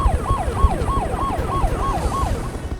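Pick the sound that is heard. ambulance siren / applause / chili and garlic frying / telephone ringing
ambulance siren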